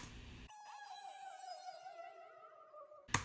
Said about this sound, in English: I thought I could turn that into a cool siren if I just pitched it up a lot and threw some weird effects on it